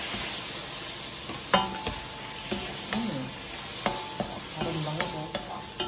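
Shrimp frying in a pan with Bali sambal for nasi goreng: a steady, close sizzle with a spatula scraping and clacking against the pan every second or so, with no talk.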